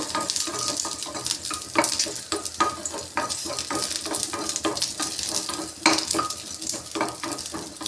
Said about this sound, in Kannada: ಸ್ವಲ್ಪ ಹಸಿಮೆಣ್ಸಿಕಾಯಿನ ಈ ರೀತಿ ಫ್ರೈ ಮಾಡ್ಕೊಬೇಕು